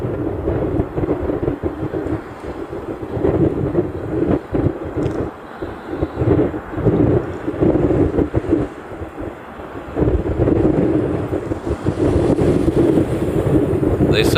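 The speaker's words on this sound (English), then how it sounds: "I hope you can hear me over this wind." Extremely strong morning wind in Honolulu buffets the microphone with heavy, continuous low rumbling and gusts, loud and close throughout, with no clear voices.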